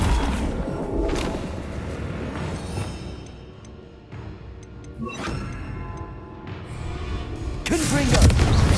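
Flipendo spell cast in Hogwarts Legacy on PS5: a quick magical whoosh and thudding knockback impacts amid busy in-game effects, low booms and a steady rumble of background game sound.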